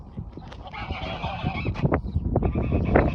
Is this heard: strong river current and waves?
no